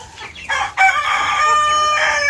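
A show-quality Sebright bantam chicken crows loudly and close, with a brief cluck before a single sustained crow.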